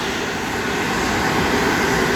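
Steady, loud broadband roar of a Garuda Indonesia Airbus A330-200's jet engines, a continuous engine rumble with no breaks, close by.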